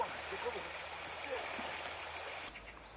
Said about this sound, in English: They wade across the river several times each day.